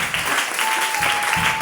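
Congregation applauding during a family church service, steady clapping from many hands filling the space for the whole moment, loud and close.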